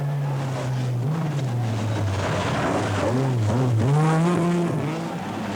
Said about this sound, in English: Bruno Sabi excels in another Renault 5 Turbo.